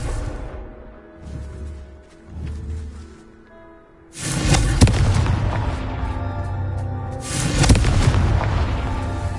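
Confringo blasting curse explosions in the Hogwarts Legacy video game: softer rumbling thuds early, then two loud, heavy booms with long crackling rumble tails, no talk.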